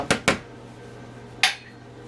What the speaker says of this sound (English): take my pastry blender and chop it all up